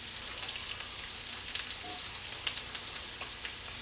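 Onions sizzle and fry in a pan, a steady close hiss with scattered small pops and crackles throughout.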